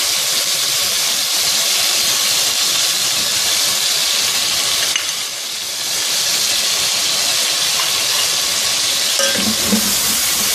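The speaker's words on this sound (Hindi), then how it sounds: "इस चिकन को हम इसमें थोड़ा सा गोल्डन फ्राई करेंगे।" Chicken frying in a pot with chilli and tomato for pulao, a loud close continuous hissing sizzle with faint stirring near the end, no talking.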